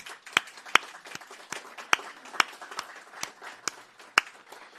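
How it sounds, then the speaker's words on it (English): Audience at an award ceremony applauding distinguished senior scientists: a sparse crowd of individual claps, several sharp louder ones standing out over a softer patter, fairly close and with no voices. "please join me in giving them a round of applause"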